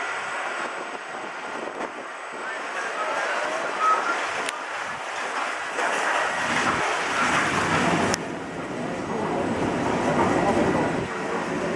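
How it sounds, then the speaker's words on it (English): Panama Canal locomotives on rails haul the cruise ship Celebrity Infinity through a lock chamber, making a steady rumbling rail noise throughout with a couple of sharp clanks. "Those trains up there, they're pulling us from the front"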